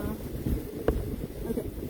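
Wind buffets the microphone aboard the sailboat SV One Love off Jamaica, a steady low rumbling roar with gusty thumps, and a voice speaks faintly underneath.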